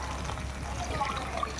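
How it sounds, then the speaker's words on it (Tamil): Water poured from a measuring glass into a pot of rice for biryani, a soft continuous splashing and trickle close by at low level. "ஹஸ்பண்ட் வந்துட்டு அளந்து தண்ணி ஊற்றுறாங்க."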